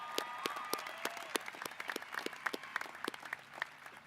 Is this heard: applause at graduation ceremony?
yes